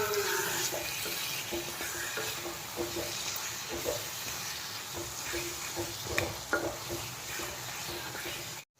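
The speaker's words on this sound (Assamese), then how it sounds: "যিহেতু মছলাখিনি ভালকৈ ভাজিব লাগিব, মছলাখিনি ভালকৈ ভাজিলেহে খাই ভাল লাগে" Chicken with spices fries in a pan with a steady soft sizzle, while a spoon scrapes and stirs it in regular strokes, fairly quiet and close with no talking.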